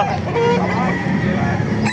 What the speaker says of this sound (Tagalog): Yung kakaibang manok nakita natin sa Baliwag